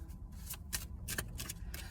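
Cards are shuffled during a card reading, with quick riffling bursts that repeat in a brisk, uneven rhythm, close and fairly crisp, with no talking.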